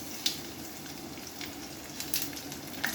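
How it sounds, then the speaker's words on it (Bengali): Panch phoron spices and chopped garlic sizzle in hot oil, a soft, steady frying hiss with a few faint crackles and pops scattered throughout. "তেলটা গরম হয়ে গেছে পাঁচ ফোড়নটা দিলাম রসুন কুচিটা দিলাম"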